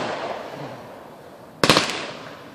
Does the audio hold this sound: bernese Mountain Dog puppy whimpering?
no